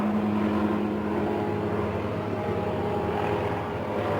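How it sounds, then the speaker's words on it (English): Steady low engine drone of a helicopter, a continuous rumbling hum holding at a constant level throughout. "It's always helicopters flying around."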